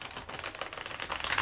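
A Marseille tarot card deck being shuffled by hand, a quick dense flutter of riffling cards close by, building slightly louder at the end.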